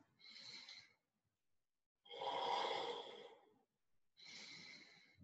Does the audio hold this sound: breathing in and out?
yes